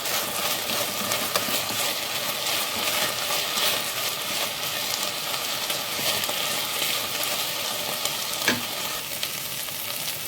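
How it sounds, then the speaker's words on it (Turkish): Chicken sautés in a pan with onion, pepper and garlic, producing a loud, dense, continuous sizzle with occasional stirring scrapes and no pauses. "Şimdi soğan, biber ve sarımsakları ilave ediyorum. Bunları da güzel kavuruyorum."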